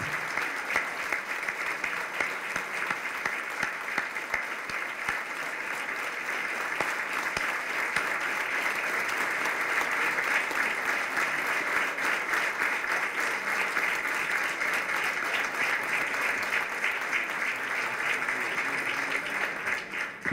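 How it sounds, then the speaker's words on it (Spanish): Audience applause at the end of a Spanish-language conference on Hispanic unity, steady sustained clapping from a full hall, continuous and even for about twenty seconds with no voices over it. "El aplauso es para todos."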